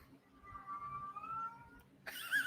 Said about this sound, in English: I thought that was an ambulance at first, but no, that's Marcus's cat.